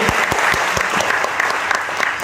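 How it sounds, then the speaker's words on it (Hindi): A crowd at an Independence Day magic show claps loudly, a dense continuous burst of many hands with a few sharper individual claps standing out near the front, no speech. "जोरदार ताली"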